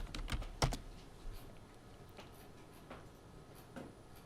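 A password is typed on a computer keyboard in a quick run of close keystrokes, a few sharp clicks at the start and then softer scattered taps, fairly quiet and without talk.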